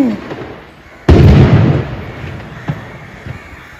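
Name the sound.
firecrackers exploding loudly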